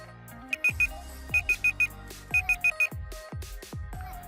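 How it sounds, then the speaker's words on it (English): A Google Home smart speaker's timer alarm sounds as short, bright beeps in quick groups of three and four, repeating over background music with no talking. "Google will automatically start stopwatch and start alarm"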